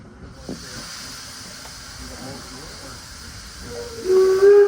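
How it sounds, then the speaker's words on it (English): Steady steam hiss fills the air, then a steam locomotive's whistle sounds a short tonal blast near the end. "we're going to listen for a blast of the whistle from the engineer"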